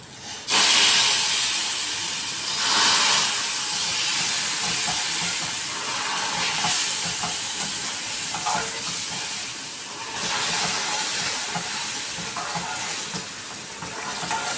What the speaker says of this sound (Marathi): आता मी ना ते गरम केलं दूध टाकणार आहे